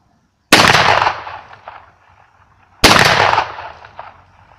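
Two loud 12-gauge shotgun blasts fired with Baltrap ammunition, spaced about two seconds apart, each with a sharp crack and a decaying outdoor echo.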